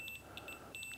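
A continuity tester on a faulty rear window demister switch from a Mk2 VW Golf GTI beeps in short high electronic pips, a pair near the start, one in the middle and a quick cluster at the end, faint and with no talk.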